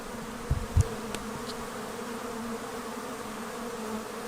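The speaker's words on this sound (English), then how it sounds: "you could actually see a couple of them starting to orientate" Honeybees around a trapout box outdoors, a soft steady insect hum under a constant background drone, with a couple of brief close buzzes or bumps early on.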